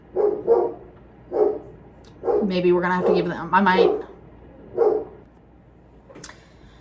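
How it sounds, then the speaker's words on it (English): Several dogs bark in short bursts nearby, with a longer stretch of overlapping barks and whines in the middle while a person speaks. "My dogs are barking, so we're going to give them 1 second here."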